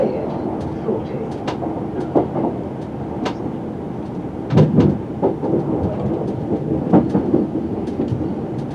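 A Chiltern Railways diesel train runs along the track through the Chiltern Hills near a depot, a steady low rumble with periodic rail clicks and jolts, fairly loud and continuous.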